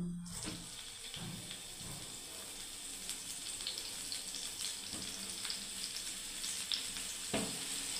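Tomatoes frying in a pan for a sweet-and-sour tomato chutney, a faint, steady sizzle and hiss with a few soft knocks and stirring sounds, close and quiet.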